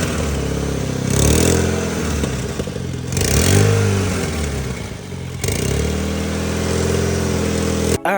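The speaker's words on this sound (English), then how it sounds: "So it seemed to me like it was an exhaust leak." A Mitsubishi Evo X with a new turbo and single-exit exhaust revs up in repeated loud blips, a raspy, rattling exhaust-leak note rising and falling close to the microphone between steadier idle stretches.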